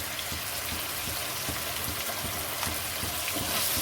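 Ginger garlic paste and chopped tomato fry in a pan with a constant loud sizzle, with soft scraping and stirring knocks mixed in.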